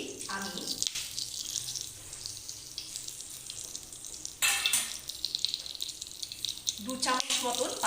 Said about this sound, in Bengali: 2 চামচ মতন পাঁচফোড়ন দিয়ে দিচ্ছি।